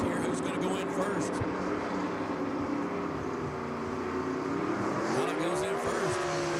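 Gasser drag race cars roar at Jackson Dragway during a Southeast Gassers Association event, a loud continuous engine drone with a rising pitch sweep near the end, while an announcer's commentary runs over it.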